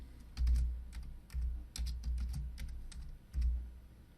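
A colour name typed on a computer keyboard while working in a graphics program's swatch panel, heard as light, irregular key taps in short clusters against a quiet background.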